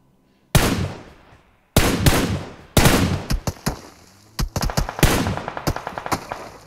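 Loud PUBG Mobile gunfire: a few single heavy shots, then rapid clusters of shots in quick succession, close and punchy with no talking over them.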